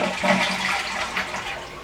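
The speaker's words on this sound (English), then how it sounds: "we're going to go ahead and flush the toilet. We're going to let all the water out of it" A toilet flushed to empty its water before resetting it, a close, loud rushing swirl of draining water over a couple of seconds, with no talking.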